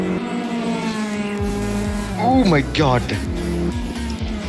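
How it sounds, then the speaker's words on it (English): A race car at Dover Raceway during a Caribbean Motor Racing Championship round revs with sharp rising and falling engine chirps under an excited commentator voice, a steady engine hum running throughout. "listen to that little engine chirp"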